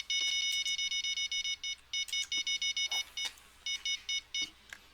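A fishing rod bite alarm in the Fishing Planet game at Lone Star, Texas, beeps in rapid bursts of bright electronic tones, loud and insistent, with short pauses between runs.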